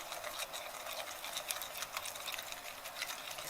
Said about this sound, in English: now I'm putting in 2 tablespoons flour. Now we're just going to whisk that up.